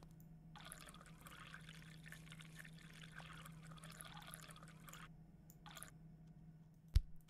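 Water being poured for pizza dough in an indie horror pizzeria game, a steady soft trickling and splashing stream lasting several seconds over a low constant hum, with a brief sharp click near the end.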